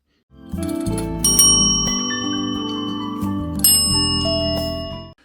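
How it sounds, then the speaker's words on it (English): A hand bell rung repeatedly in two loud, bright bursts of ringing, each ring leaving a long shimmering decay, close up with no talk. "supposedly when I ring that bell, Susie was going to run down here"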